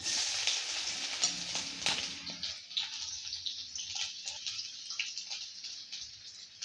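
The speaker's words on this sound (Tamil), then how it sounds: "இப்போ எண்ணெய் சூடாயிருச்சு நான் இதில் இப்போ எண் வெங்காயம் சேர்த்துக்கிறேன்" Onions sizzling and crackling in hot oil in a pan, a dense steady hiss with scattered pops and a brief stir near the start, loud and close with no talking.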